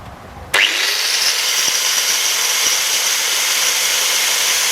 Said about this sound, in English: I'm about to grind off these pins here